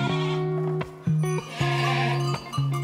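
Goats and young lambs bleat in a cold winter barn on a farm of up to 350 goats, several loud, close, overlapping calls following one another in quick succession.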